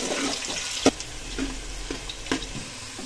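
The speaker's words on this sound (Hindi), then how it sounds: "सबसे पहले हम डालेंगे कुकिंग ऑयल और अभी हम इसमें प्याज ऐड करेंगे।" Sliced onion frying in cooking oil for brinjal rice, a soft continuous sizzle broken by a few sharp clinks and stirring knocks.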